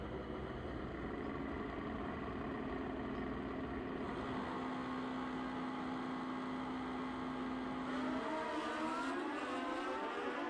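1981 Kawasaki GPZ 1100 motorcycle on a drag strip run at a racing finals event, a sustained loud engine roar with a rising, shifting pitch, no talking.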